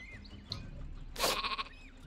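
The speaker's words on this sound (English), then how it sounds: "I can hear the sheep, I don't see it." A sheep bleats in the Worms W.M.D. multiplayer game: a short, wavering, close bleat mid-clip among faint game sounds, with no speech over it.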